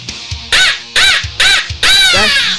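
A handheld crow call is blown in four loud, close, raspy caws, the last one drawn out longer, closely mimicking a crow.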